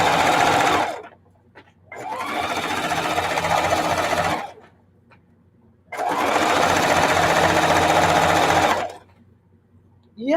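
Sewing machine stitching the last seam of a Christmas tablecloth, running in two long, loud, steady whirring bursts of about three seconds each, separated by brief pauses, with no talk.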